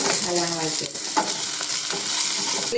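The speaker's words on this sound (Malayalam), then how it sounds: "ഒന്ന് നല്ലോണം വഴറ്റിയെടുക്കാം" Ginger and curry leaves sautéing in oil in a pan, a loud steady sizzle close by, with stirring strokes and a brief dip partway through; no voices.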